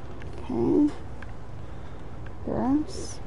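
A cat gives two short meows, close and moderately loud, about two seconds apart, against quiet background noise in a video game scene.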